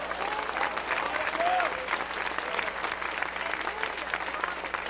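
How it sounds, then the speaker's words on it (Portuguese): A church congregation claps together in a sustained burst of applause, steady and dense throughout, with a voice audible over it. "Aplauda, Jeová."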